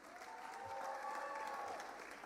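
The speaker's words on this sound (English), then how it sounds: "A round of applause for Jane." An audience at a 2025 executive education graduation ceremony applauds warmly, a dense, even patter of clapping that fills the hall, with a faint tonal sound riding through the middle.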